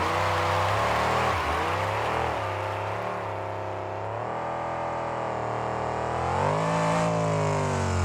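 A monster truck engine roars loud and close throughout a freestyle run at a 2003 KORR Monsters event in Salinas, the pitch dipping and climbing again as the truck whips through donuts.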